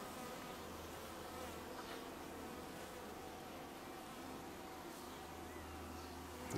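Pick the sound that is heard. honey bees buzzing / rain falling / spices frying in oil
honey bees buzzing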